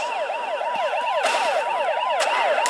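Police car siren in the video game Turbo Dismount, a rapid warbling wail repeating steadily and loudly, with a few sharp crash-like thumps over it.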